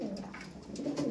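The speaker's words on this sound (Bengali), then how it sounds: "এই পায়রা দেখুন ছাড়ার সঙ্গে সঙ্গে কিন্তু ডাক দিচ্ছে" A domestic pigeon coos repeatedly right after being released, the calls close, loud and continuous over a steady low background.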